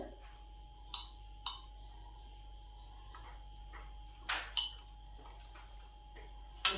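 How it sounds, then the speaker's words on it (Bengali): A knife halves boiled teasel gourds on a cutting surface, giving a few sharp, separate taps and clicks over a quiet, steady room hum. "এবার ছুরির সাহায্যে মাঝখান দিয়ে এগুলোকে কেটে দিই"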